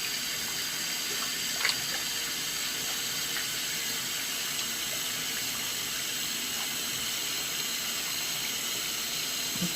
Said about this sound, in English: So I'm going to wash my hands here